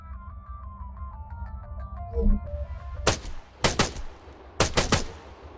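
Gunfire at targets in the video game Arma 3 cracks out in three sharp, loud shots spaced about a second apart, following a tonal game sound and a low thump.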